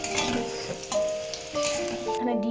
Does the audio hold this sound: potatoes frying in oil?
yes